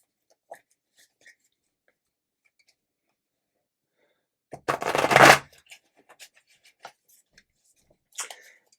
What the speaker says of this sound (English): so I just give them a little bit more of a shuffle